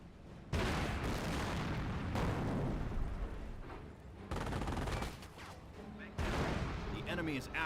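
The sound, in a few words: gunfire at rifle squads in video game Company of Heroes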